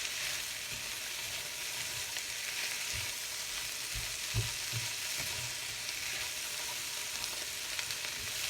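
Moo shu shrimp stir-fries on high heat, a constant loud sizzle with occasional soft knocks and scrapes of stirring, close up and free of talk.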